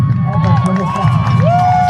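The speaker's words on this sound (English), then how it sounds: "And you hear the reaction from the crowd." A crowd at an NCAA Division III football game, TLU against Howard Payne, reacts to a holding call with a loud, sustained roar of voices and shouts, close and continuous, with a brief whistle-like tone near the end.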